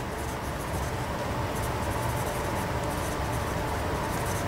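Steady marker or chalk strokes scratching across a board during a geotechnical engineering lecture on pile foundations, a continuous close rubbing hiss with no pauses.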